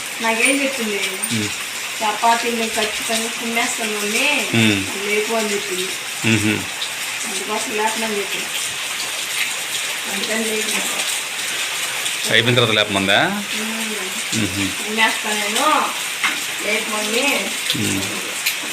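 Heavy rain pours steadily during a sudden night storm with gusty winds, a constant loud hiss running under a voice and other people talking throughout.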